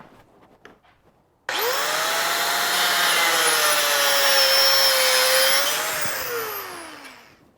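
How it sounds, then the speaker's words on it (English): A power tool cuts through a paramotor frame tube, starting abruptly with a loud steady whining grind that holds for several seconds, shifts pitch slightly, then winds down. "We don't need all of it, so we're going to cut a portion off."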